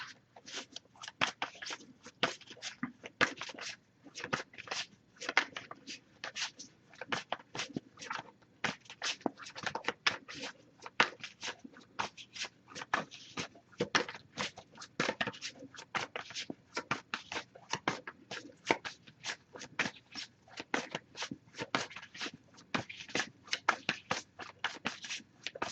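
Tarot cards are shuffled quietly and steadily, a long run of soft riffling clicks and flutters with no talking.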